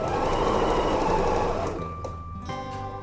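Sewing machine running a straight seam on a cushion cover, a loud rapid whirring chatter that slows and stops partway, followed by a few quieter mechanical clicks and a faint tonal hum.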